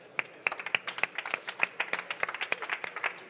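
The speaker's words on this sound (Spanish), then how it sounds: "un aplauso" An audience at a Spanish composite materials conference gives a short round of applause, with distinct, fairly sparse claps in a quick irregular rhythm.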